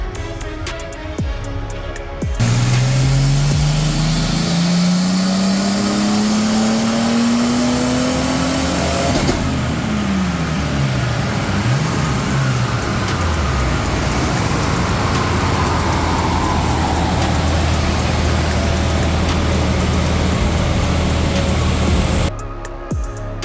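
Ford AU Falcon engine on a dyno, revving in a long loud pull that climbs steadily in pitch, then drops off and settles into a sustained roar before cutting out, heard close with no talking.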